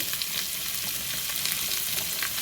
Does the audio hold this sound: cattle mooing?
no